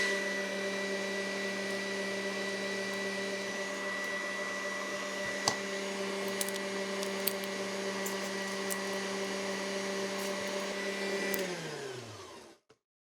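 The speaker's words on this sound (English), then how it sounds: "It is now time to grind the pork." An old Oster Kitchen Center meat grinder attachment grinds raw pork with a steady, loud motor whine and hum running continuously, then winds down and stops at the end.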